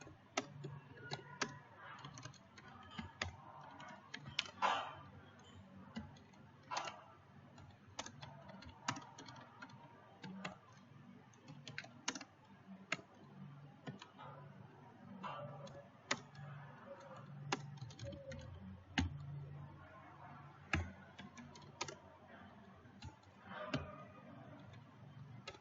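Code is typed on a computer keyboard, with faint, irregular key clicks and clusters of taps spread across a quiet stretch, no one talking.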